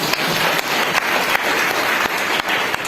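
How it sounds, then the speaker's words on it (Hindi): An audience of women at an International Women's Day event in Durg applauds, dense steady clapping with a few sharper individual claps, loud and close. "अब अपने आप के लिए एक बार ताली हो जाएगी।"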